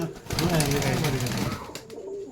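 Close, low pigeon coos rolling in a short burst, with faint background noise and no clear speech.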